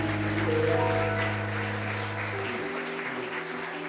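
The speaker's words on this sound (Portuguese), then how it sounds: "Aplauda o Senhor Jesus" Church congregation clapping together at a worship service, a broad wash of applause with sustained organ or keyboard tones underneath that fade partway through.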